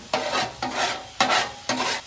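Honey garlic chicken bites with butter sizzle on a Blackstone griddle, punctuated by four quick scraping spatula strokes at regular intervals over a steady frying hiss, close and alone.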